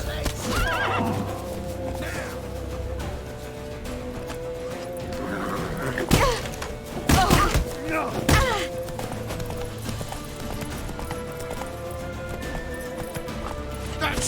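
Horses neigh and hooves clip-clop in The Witcher 3 video game, with loud thumps and crashes midway amid an orchestral score and shouting voices throughout.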